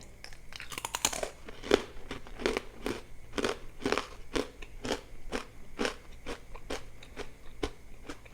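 Crispy raw vegetables crunched and chewed close up, a steady run of sharp, crackling bites and mastication, one after another with no talking.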